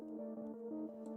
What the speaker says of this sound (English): This was a recorded Behringer Model D that I have, and it sounds like this.